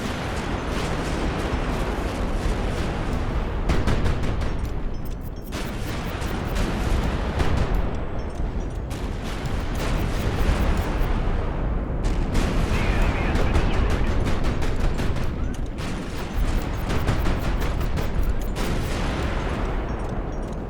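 Dense, continuous barrage of heavy gunfire and booming shell impacts from an airship battle in the strategy game Highfleet, loud and close with overlapping blasts and no pauses.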